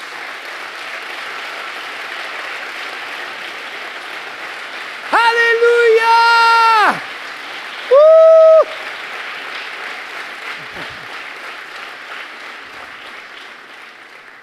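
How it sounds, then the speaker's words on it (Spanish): Sustained applause from a large church congregation during a sermon fills the space throughout, with a voice shouting briefly over the clapping. "denle un fuerte pero fuerte aplauso a Jesús"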